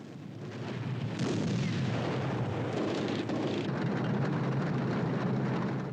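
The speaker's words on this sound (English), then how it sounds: "with German planes constantly overhead, the situation in Prague had become critical." German warplanes of the Second World War roar overhead near Prague in a dense, continuous drone of engines mixed with rumbling, loud and sustained throughout with no speech.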